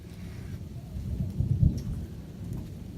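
A thunderstorm rolls on with steady rain and low rumbling thunder that swells to a louder peak midway, heard outdoors without any talking.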